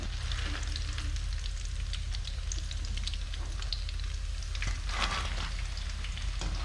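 Bread-coated chicken cheese balls fry in hot oil, giving an even, continuous sizzle with small pops and crackles throughout, close and unaccompanied by speech.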